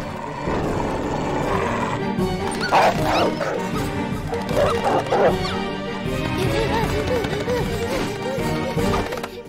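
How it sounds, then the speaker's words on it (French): Puppy-like dog in a French animated family series barks in repeated short yips, mixed with a busy background score and some voices throughout. "C'est ton chien qu'on entend aboyer comme ça?"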